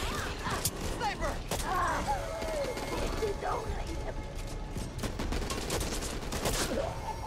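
Sniper shots and gunfire in Back 4 Blood snap out repeatedly amid clattering mechanical noise, while players talk over the fighting.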